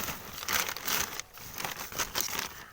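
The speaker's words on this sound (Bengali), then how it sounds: "এবারে এর উপর দিয়ে দেবো কিছুটা কাঁচা সবজির খোসা।" Fresh raw vegetable peels rustle and crinkle as they are spread by hand over a garden bed, a series of dry, papery crackling bursts close by with no talking.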